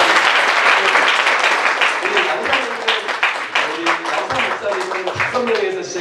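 A church audience at a pastors' seminar breaks into applause, a dense, continuous patter of many hands over about six seconds, with voices talking over the clapping.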